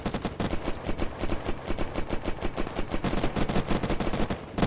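A heavy machine gun firing explosive rounds in the game Unturned lets off a rapid, steady stream of loud shots, each with a sharp crack, continuing without pause.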